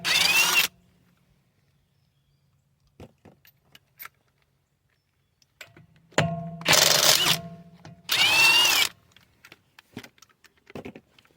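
A power impact tool zips off the lug nuts on a Toyota/Scion wheel: three loud, close bursts of whirring rattle, one short and two longer, separated by quiet clinks and handling noises.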